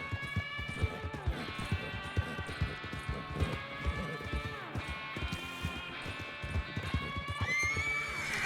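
Horse in the RedM Red Dead roleplay game neighs and whinnies repeatedly over clip-clopping hooves and busy game background, with loud calls rising and falling across the whole stretch.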